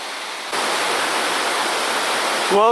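A waterfall near the Banff to Jasper road roars as a steady broad rush of falling water. It starts abruptly and stays constant, with a brief whistling or squeal near the end.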